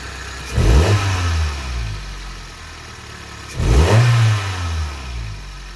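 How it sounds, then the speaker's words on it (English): A Toyota Carina engine revs up twice, rising then settling back to a steady idle between bursts, loud and close. "the engine's a lot quieter, a lot quieter"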